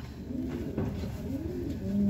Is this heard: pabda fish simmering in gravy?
no